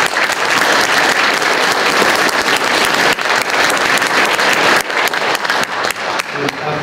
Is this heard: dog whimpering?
no